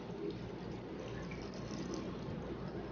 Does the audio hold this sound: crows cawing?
no